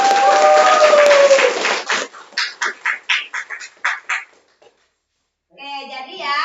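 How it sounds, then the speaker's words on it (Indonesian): Applause from an audience after a classroom debate during a peer observation session, rhythmic clapping rising and then tapering off into silence, with a voice starting up again at the end. "tepuk tangan"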